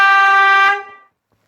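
Air horn blast, a single loud, bright, sustained tonal honk lasting under a second before cutting off into silence.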